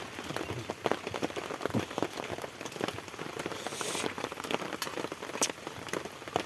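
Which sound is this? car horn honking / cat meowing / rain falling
rain falling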